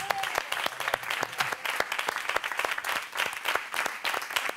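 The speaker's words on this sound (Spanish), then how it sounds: "Vale, un aplauso para ellos." A studio audience claps fairly loudly and close up on a Spanish television show after a live musical performance, with scattered distinct hand claps and no talking.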